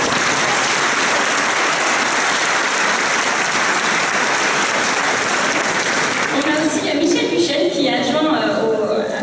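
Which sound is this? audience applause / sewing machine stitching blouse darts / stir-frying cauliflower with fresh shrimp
audience applause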